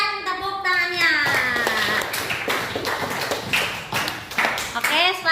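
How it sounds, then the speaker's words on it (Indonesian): A classroom audience claps in a scattered patter of hand taps, fairly close, while voices talk over it throughout. "berikan tepuk tangannya"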